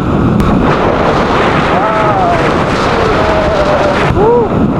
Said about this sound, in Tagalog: Wow. Lakas ang hangin.